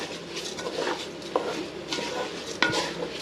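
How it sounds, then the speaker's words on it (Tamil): Chicken biryani masala is stirred in hot oil with a metal spoon, giving steady scraping and clinking against the pot over a low sizzle, with a few sharper knocks along the way. "அதிலே கொஞ்சம் அந்த எண்ணெயிலே கொஞ்சம் நல்லா கிண்டி விடுங்க."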